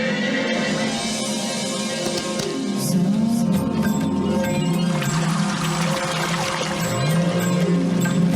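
Water flowing steadily, pouring and trickling at close range in a continuous rushing wash over the whole stretch, with no break.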